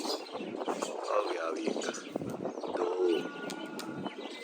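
Pigeons coo in a loft as young birds are let out, soft rolling coos and a few chirps overlapping at close range with faint wind behind.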